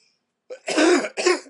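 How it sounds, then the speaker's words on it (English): A single close cough, a short rough burst followed by a second hack, with silence before it. "Had to cough again if you didn't notice."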